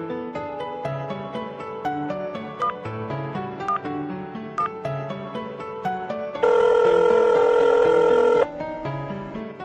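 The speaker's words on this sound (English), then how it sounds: "Now dial the emergency number and report to the police." Emergency call placed on a telephone: short dialing beeps sound over a steady musical backing, then a loud, continuous ringing tone holds for about two seconds before the music carries on alone.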